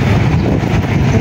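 Strong wind buffets the microphone outdoors on a sunny morning in Baguio, making a constant low rumbling roar across the whole short stretch, loud and close, with no one talking.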